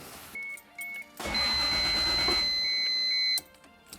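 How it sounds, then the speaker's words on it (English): A 1JZ-engined Mk3 Toyota Supra cranks and catches, running steadily for a couple of seconds, with beeping chimes before and during, then cuts off. "See if it still has enough power to crank the engine."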